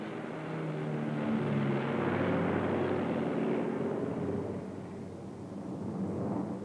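WWII German aircraft in archival footage, a broad, steady droning roar of engines swelling and holding at a distance, with a low rumble underneath and no voices.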